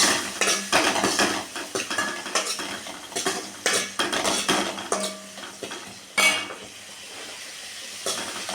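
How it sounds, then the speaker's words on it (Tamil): Shallots and dried chili stirred in a metal pan for black chickpea sundal, producing repeated close scraping and clinking of a spoon against the pan in uneven bursts, with no voices. "சின்ன வெங்காயத்தையும் போட்டுக்கலாம் வெங்காயத்தை நல்லா வணக்கி விட்டுக்கலாம்"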